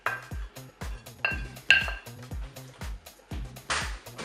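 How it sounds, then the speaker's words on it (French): Potato salad ingredients tossed together in a salad bowl, giving a steady run of utensil clinks and knocks against the dish, close and fairly loud, with rhythmic scraping strokes. "Je vais ajouter tous les ingrédients dans le saladier de pommes de terre. Je vais mélanger bien sûr."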